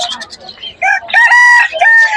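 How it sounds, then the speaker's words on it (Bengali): An eight-month-old rooster crows loudly and close at Meradia bird market in Dhaka, one long drawn-out crow after brief clucking and faint market noise. "আট মাস বয়স মোরগ এটা"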